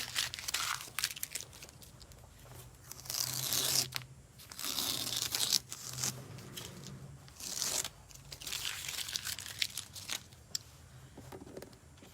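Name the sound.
peeling tape off a furniture stencil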